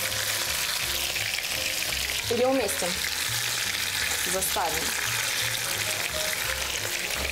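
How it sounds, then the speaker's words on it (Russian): Lamb pieces fry in a pan with a steady, close hiss and sizzle that runs the whole time, while a couple of short voices speak briefly over it in a home kitchen. "пока жарится барашек"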